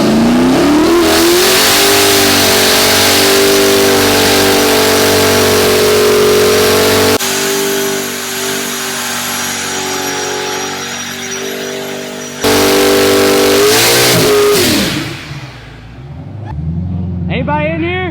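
A 1000+ hp turbocharged Camaro revs hard during a burnout inside a shop, a loud sustained engine howl with rising and falling pitch that cuts off and restarts, with voices over it.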